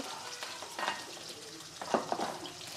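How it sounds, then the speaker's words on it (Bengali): Lentil dumplings (bori) fry in a pan in a home kitchen, giving a soft, steady sizzle with a few louder crackling bursts and faint utensil scrapes, fairly quiet overall. "এদিকে বড়িগুলা সুন্দর করে ভেজে নিছি দেখেন খুবই সুন্দর করে বড়িগুলা ভেজে নিছি"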